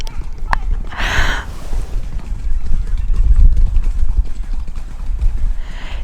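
Horses pass by on a countryside road, their hooves clip-clopping in a steady uneven rhythm that grows nearer and louder, with a few soft sounds over the top.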